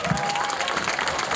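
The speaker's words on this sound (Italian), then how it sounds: "Un bel applauso alla nostra Carlotta!" Audience applause at a local Got Talent show in San Casciano in Val di Pesa, a dense steady patter of many hands clapping throughout, fairly loud with faint crowd noise mixed in.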